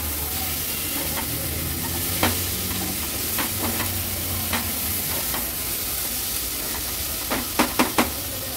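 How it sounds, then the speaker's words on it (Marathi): Finely chopped medium tomatoes are stirred into ground masala paste in a hot pan, giving a steady sizzle and frying hiss with scattered light spoon clicks against the pan, quicker taps near the end. "ते देखील वाटणासोबत व्यवस्थित मी मिक्स करून घेते।"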